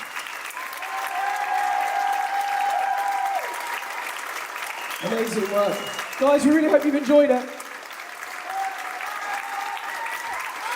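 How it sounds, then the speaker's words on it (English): Audience applause at a live concert livestream rises and falls around a performer's closing remarks, with steady clapping beneath talk and a louder burst of cheering and clapping midway through. "the final applause for the people up top"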